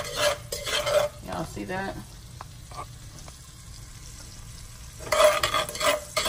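About a teaspoon of seasoning sizzles in melted butter in a pan while zucchini is being cooked, the frying hiss rising in bursts with quieter gaps between, and a voice speaks briefly.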